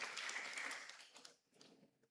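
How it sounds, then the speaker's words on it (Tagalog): Church congregation clapping together during Sunday mass, a burst of fairly dense applause that thins into scattered claps and fades out. "Isa pang palakpak sa Diyos ng buhay."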